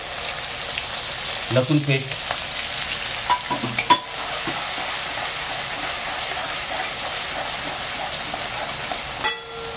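Garlic paste hits hot oil with cumin and curry leaves for egg biryani and fries with a steady hiss, while a spoon scrapes and clatters in the pan early on before the sizzle carries on alone.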